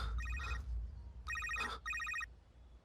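A telephone bell rings in three bright, trilling bursts with brief pauses between, close and fairly loud over a low background hum.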